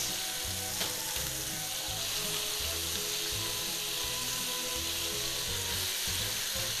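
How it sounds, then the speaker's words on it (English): Hawaiian meatballs with rice mixed in browning in a pan, giving a steady loud sizzle and crackle throughout with a low pulsing hum underneath and no voices. "we're going to brown these for just a couple of minutes"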